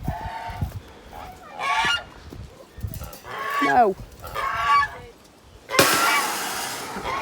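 A farm goose honks in several loud bursts close by, mixed with clucking from other fowl. A person briefly speaks between the calls.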